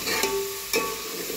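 Grated coconut roasts with turmeric and coriander powder in oil, giving a soft steady sizzle and two brief scraping strokes of a spoon, close and unaccompanied by talk.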